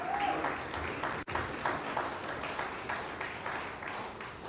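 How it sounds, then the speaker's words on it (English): A crowd claps continuously at a scholar athlete awards event, the dense applause holding steady and close for several seconds with only a brief dropout early on. "Please give them applause."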